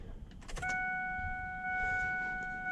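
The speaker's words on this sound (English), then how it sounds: "move to the inside of the truck and turn my ignition to the on position. I'm going to cycle this about 3 times." 7.3 Powerstroke diesel truck with the ignition switched on to prime the fuel system: a click, then a steady electronic chime-like tone holds through a quiet cab, with no engine running.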